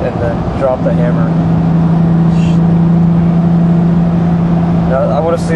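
Audi RS4 MTM accelerating hard on a highway, a loud sustained engine drone with a steady rising tone under close talking voices.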